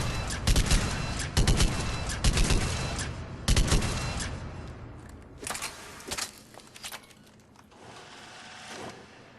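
The Argus rifle fires at targets in Mass Effect 3, with loud, close bursts of rapid shots in clusters, followed by softer, sparser shots as the echoes fade.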